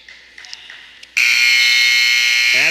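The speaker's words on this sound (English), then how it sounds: "That's the buzzer for the second period." A loud, sustained electronic buzzer ends a period at a college wrestling match, blaring after about a second of faint background noise, holding steady before cutting off at the end.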